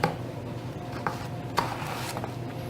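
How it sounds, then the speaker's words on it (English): A knife cuts through a yellow summer squash on a cutting board, with a few sharp, close taps and thuds spaced across a quiet kitchen background. "So we've got a yellow squash. We're going to cut it in half."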